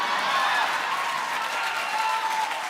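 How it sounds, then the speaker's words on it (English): Comedy club audience members clap together in dense, continuous applause heard from within the crowd, with faint crowd murmur underneath. "See all them short men clapping?"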